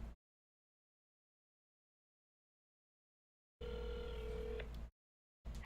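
A telephone ringing through to the Spill the Beans tip line, with a single clear electronic ring tone after long silence and the start of another ring at the end.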